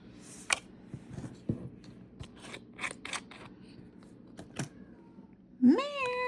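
A pet cat named Pearl lets out a single clear, close meow near the end, after a stretch of soft rustling and light clicking at a desk.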